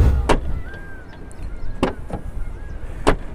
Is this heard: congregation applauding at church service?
no